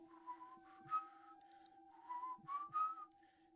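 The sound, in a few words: imitated whistling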